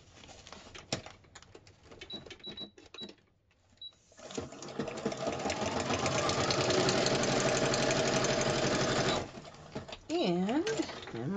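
A sewing machine stitches down a paper envelope hinge: a few short starts, then a steady, close, rapid run of stitching that stops abruptly, with a person speaking over parts of it.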